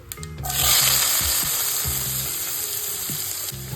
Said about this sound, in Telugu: వీటిని మంచిగా ఫ్రై చేసుకోవాలి.